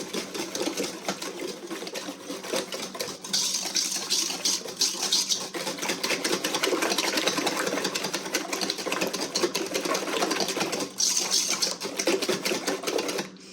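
Sourdough banana bread batter with vanilla is stirred vigorously in a bowl, a busy rapid clatter and wet slapping that runs nearly continuously at close range.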